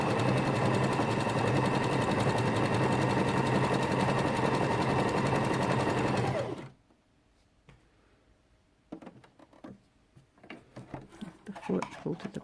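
Janome FD206 or RE1306 sewing machine stitching a medium zigzag, a fast, dense, steady mechanical whir for about six seconds that cuts off abruptly, followed by quiet handling clicks and a voice speaking.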